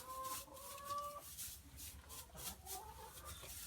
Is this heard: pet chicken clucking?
yes